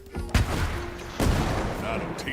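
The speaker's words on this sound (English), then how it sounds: "And we shoot you with cannons." Cannon fire in the video game Foretales: two heavy booming blasts about a second apart, each followed by a rumbling tail, under a game soundtrack with a sustained tone.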